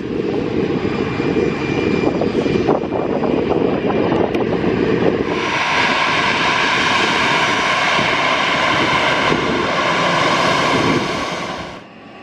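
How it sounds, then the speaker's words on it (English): A Ryanair Boeing 737 MAX jet roars past at an airport on a summer evening, a loud sustained engine rush that swells midway and fades out at the end, with no talk. "Here we go, folks, with the Ryanair 737 MAX"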